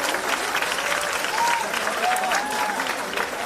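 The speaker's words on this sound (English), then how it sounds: "A round of applause for Gaurav, the design renaissance man." Audience applause after a speaker is introduced for a vote of thanks at a design week event at Karnavati University in Ahmedabad, a steady broadband clapping from a large crowd, with faint voices and a thin whistle-like tone rising above it.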